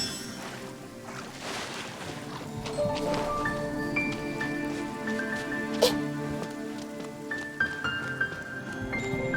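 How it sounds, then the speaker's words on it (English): Rain falls steadily in Genshin Impact, a soft, continuous patter blended with melodic game music and some voice activity. "All the water that used to be here has turned into rain!"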